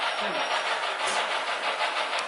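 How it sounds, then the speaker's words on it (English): Two locomotives double-heading past a model railroad layout with a third engine, 4412, following, giving a steady broadband rumble and hiss that holds at constant loudness for the whole stretch. "It's actually a double heading engine followed by engine 4412"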